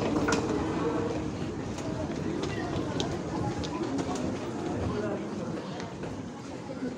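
Steady rumbling of a train running on rails, with faint clicks and background chatter from people around.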